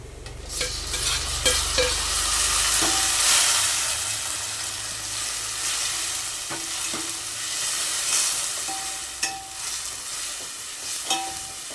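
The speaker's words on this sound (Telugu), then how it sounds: "ముందుగా కట్ చేసి పెట్టుకున్న టొమాటో ముక్కల్ని కూడా వేసేద్దాం" Onions and tomato pieces frying in a pan for sambar, a loud continuous sizzle with periodic scraping and clinking of a ladle stirring, close up and without speech.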